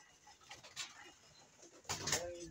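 Soft pigeon coos from kept fancy pigeons drift in among faint rustling and scattered background noise, with a louder burst of sound near the end.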